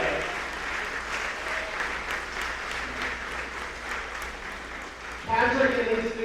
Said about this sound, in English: A nice round of applause for Patrick.